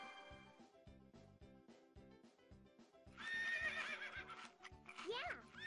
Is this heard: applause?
no